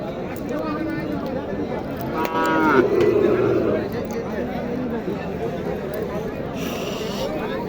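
Heifers of Sahiwal and Gir breeds at Dighir Haat cattle market in Naogaon, one loud nearby moo rising over a steady murmur of crowd chatter and people talking.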